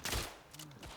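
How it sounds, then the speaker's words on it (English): A World War I rifle fired in the game Tannenberg, a single sharp loud shot at the start followed by a fainter second report and trailing echo within about a second. "This rifle's a bit on the slow firing side, ain't she?"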